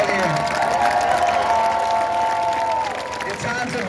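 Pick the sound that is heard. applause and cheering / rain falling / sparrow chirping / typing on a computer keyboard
applause and cheering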